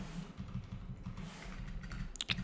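Quiet keystrokes on a computer keyboard while entering text for a JavaScript front-end coding exercise, a soft run of taps with a brief louder cluster near the end.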